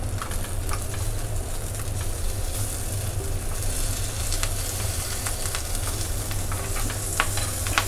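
Stuffed green chillies roast in a pan, a steady crackling sizzle with scattered sharp pops and spatula scrapes throughout, close and fairly loud with no talking.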